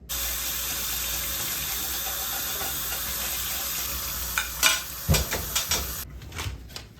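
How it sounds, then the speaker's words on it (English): Tap water runs steadily into a sink while dishes are washed, a constant close rush that gives way to clinks, splashes and handling noises of plates before the flow cuts off, no speech. "I guess I might as well do the dishes while I'm here."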